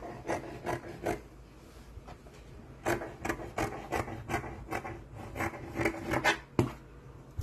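Scissors snip and rasp through Ankara fabric while a dress is trimmed, giving a steady series of soft, close cutting strokes with no talk.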